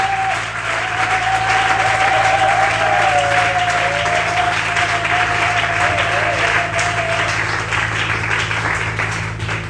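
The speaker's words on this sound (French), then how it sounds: "Acclamons encore." A congregation at a Sunday church service applauds in a sustained, loud wave of clapping that carries on without a break, with a long whistle-like tone running through the middle.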